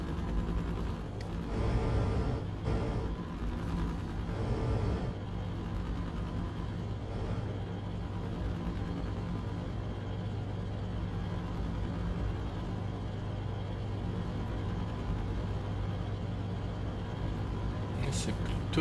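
A heavy truck engine drones steadily throughout, with low rumbling that swells slightly as it accelerates, under a constant broadband road noise.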